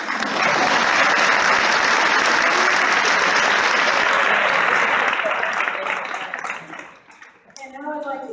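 An audience at a county teacher recognition ceremony gives loud, sustained applause, a thick wash of clapping that holds for several seconds before fading, with a voice coming back in at the end.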